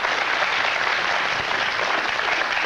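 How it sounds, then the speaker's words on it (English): A studio audience at a 1996 televised debate on Europe and the Referendum Party applauds steadily, a thick even wash of many hands clapping that continues throughout at a constant loud level. "I don't want to stop the clapping, it just takes up a bit of time."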